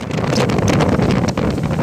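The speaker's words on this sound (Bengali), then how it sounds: "পটুয়াখালীতে রিমালের প্রভাবে বৃষ্টি ও ঝড়ো হাওয়া বইছে" Stormy wind from Cyclone Remal roars in a loud, continuous gust that buffets the microphone without a break.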